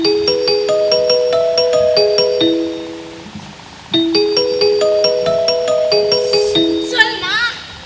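A phone's melodic ringtone plays loud and close while a call to a roommate goes through, the same bright tune running twice with a short gap and a brief burst of noise near the end.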